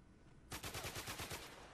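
Rapid burst of gunfire in GoldenEye 007 Reloaded, a sudden string of about a dozen sharp, evenly spaced shots erupting after a quiet half second and continuing loud to the end.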